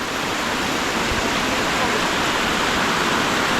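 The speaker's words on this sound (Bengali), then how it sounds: "যে সিঁড়ি দিয়ে আমরা নামবো, সেই সিঁড়ি দিয়ে প্রচণ্ড গতিতে জল নামছে" At Hundru Falls in Ranchi, water rushes down stone steps, making a loud, continuous roar that stays dense and unbroken throughout.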